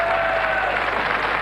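Studio audience applause on the 1996 French game show Le Juste Prix, a dense, even burst of clapping filling the whole moment.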